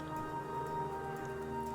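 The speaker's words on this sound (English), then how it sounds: "Let's fly through the rain here." Steady rain from the video game Minecraft, a continuous hiss with no talking, under a faint tonal background hum.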